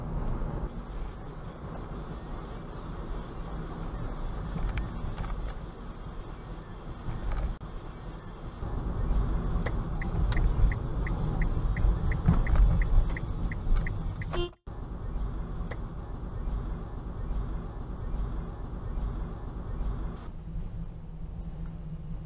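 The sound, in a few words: car driving through a parking lot at night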